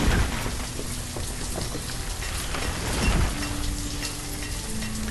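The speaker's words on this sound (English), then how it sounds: "I feel like it's raining all the time here right now." Steady rain in the city-building video game Banished, a dense, even hiss of falling drops that continues unbroken and fairly loud, with no talking.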